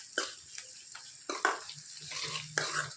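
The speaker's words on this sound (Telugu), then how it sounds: "బాగా ఫ్రై చేసుకోవాలి" Onions fry in a pan for a Telugu bachali leaf and raw mango dal, a quiet sizzle broken by several sharp scraping stirs of a utensil against the pan, with no talk.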